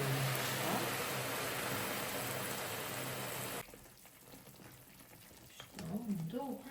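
Hot syrup poured over hot baklava gives a loud, steady hissing sizzle for about three and a half seconds, then cuts off to quiet kitchen sounds, with a voice speaking near the end.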